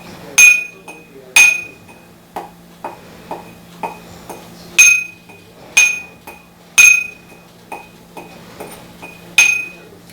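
Cloves being ground by hand in a mortar and pestle, sharp clinking strikes landing in an uneven rhythm with quieter taps between them, close and alone.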